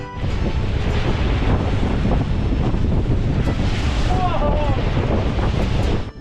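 Strong Meltemi summer wind buffeting a sailboat in the Cyclades, Greece, with loud continuous roaring gusts and rushing water throughout.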